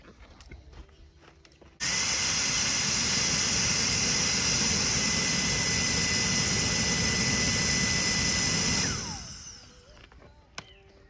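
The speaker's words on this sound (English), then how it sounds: "If you need to fan the flames, get one of these blowers." A handheld blower roars on suddenly at a campfire in a mountain campground, holding a loud, steady whine for about seven seconds before winding down, with faint rustling before and after.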